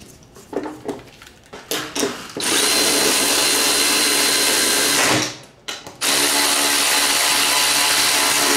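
Power tool, likely an impact or drill driver with a 13 mm socket, tightening nuts on a John Deere Z335e mower deck during spindle and blade replacement; loud sustained whirring bursts, a few short pulses, then two long runs with a brief pause between.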